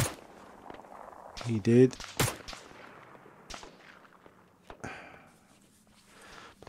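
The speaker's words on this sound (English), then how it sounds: "I'm not sure if that crack noise is somebody shooting at me or someone shooting around me" Sharp gunshot cracks in Arma 3, several scattered reports of varying loudness, mostly distant with one closer burst, interleaved with brief speech.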